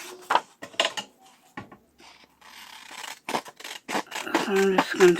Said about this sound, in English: So I'm just going to take my scissors.